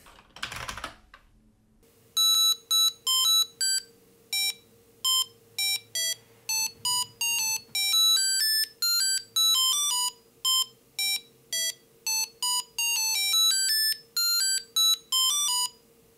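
A computer plays a rapid melody of square-wave beeps, short clipped tones in quick succession at varying pitches over a faint steady hum, after a brief click at the start.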